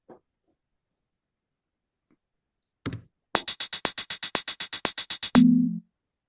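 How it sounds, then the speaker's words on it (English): A programmed hi-hat in Ableton ticks out about fourteen crisp, evenly spaced hits in a quick row, ending with a short low tone after a single earlier click. "so there's your hi-hat."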